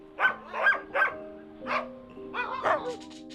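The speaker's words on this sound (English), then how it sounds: "As you can see, there are some dogs here." Dogs in the bitter cold of Yakutia barking close by in short sharp bursts, three quick barks, a pause, then more yelping barks with a whiny edge, and no one talking over them.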